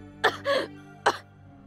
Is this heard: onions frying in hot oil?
no